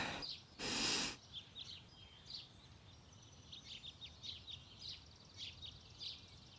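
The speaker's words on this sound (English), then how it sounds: "I woke up to the sound of birds chirping outside." Birds in a morning outdoor scene from the game The Thirteenth Guest, chirping faintly in short repeated calls over quiet background, after an early brief burst of noise.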